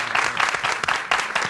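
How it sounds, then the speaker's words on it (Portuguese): A studio audience at a Brazilian TV program applauds a reggae band, a short, lively burst of clapping with some crowd noise mixed in. "Palmas pros caras."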